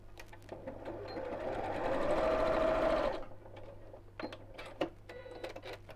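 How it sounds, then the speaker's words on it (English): A sewing machine runs in one steady burst of stitching for about two seconds, then falls quiet, followed by a few light clicks and handling noises. "So sew a little bit, just reverse,"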